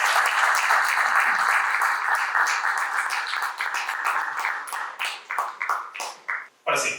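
An audience at an energy panel discussion applauds warmly, dense clapping that thins into scattered individual claps toward the end.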